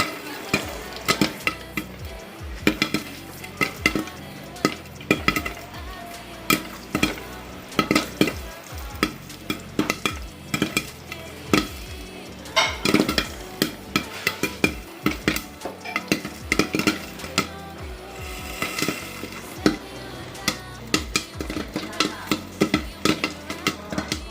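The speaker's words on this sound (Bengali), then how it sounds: "চলো পপকর্নের সাউন্ডটা শুনিয়ে ফেলি" Popcorn pops as it fries in a pan, giving a dense, irregular run of sharp, close pops and rattles over a low sizzle, with no talking.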